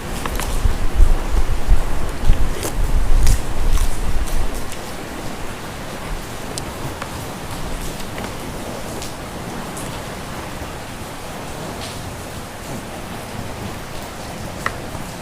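Heavy rain pours in a dense, steady hiss with pattering drops on surfaces, louder for the first few seconds and then settling into a constant, slightly softer downpour with no voices.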